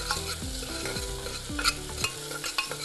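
Onion and tomato masala frying for mutton biryani, a rhythmic series of spoon scrapes stirring the thick mixture over a steady low sizzle, close and clear.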